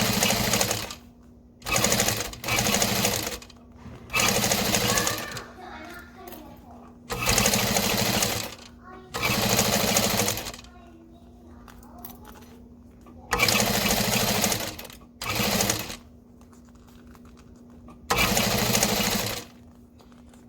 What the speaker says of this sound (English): I'm gonna pull those threads to the back, and we're just gonna keep sewing.